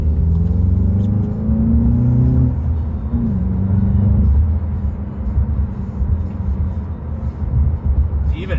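Inside a 2022 VW GLI with a 2.0T engine and six-speed manual, the engine drone climbs, breaks off at a gear change, then pulls again, settling into a steady road rumble near and loud.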